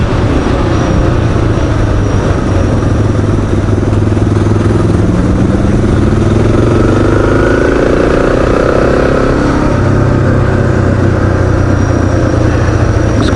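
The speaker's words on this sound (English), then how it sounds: "so this is the Honda CRF Rally 300." Honda CRF Rally 300 motorcycle ridden in a group on an open-road rally, its engine a loud continuous drone under strong wind noise, pitch sweeping up and down as it accelerates, no talk.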